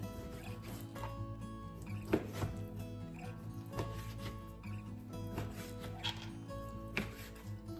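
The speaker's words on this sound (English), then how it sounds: "we're gonna just cube it and put it in that bowl" A knife cuts chicken into cubes on a board, with a series of quiet, irregular chopping taps over a low background hum.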